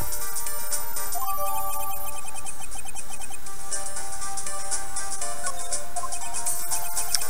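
A phone ringtone plays loudly in the Phoenix Wright Ace Attorney video game, a bright, repeating electronic melody that runs continuously over the game's music.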